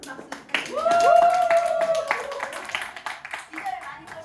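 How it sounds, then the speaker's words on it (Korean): Audience applause for a speaker at a company gathering: scattered claps swell into a brief burst, then thin out to a few sparse claps, with a voice and tonal sound running over the first half. "정경수 사장님께 다시 한번 큰 박수 부탁드립니다"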